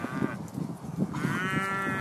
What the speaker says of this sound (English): Oh, that's made my day. That's those cows.